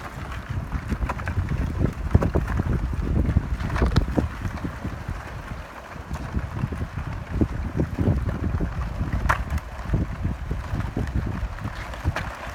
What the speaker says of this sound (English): the wind is driving that ice to shore and it's breaking